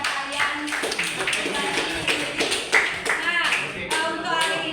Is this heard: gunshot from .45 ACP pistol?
no